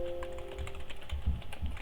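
A computer keyboard is typed on in a few soft, quick taps, close and quiet, with a faint steady tone underneath.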